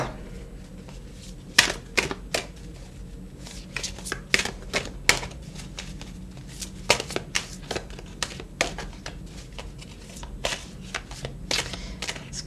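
Tarot cards being drawn and handled during a reading: a run of crisp, close card snaps, flicks and shuffling clicks in irregular bursts over a soft room background, with no talking over them.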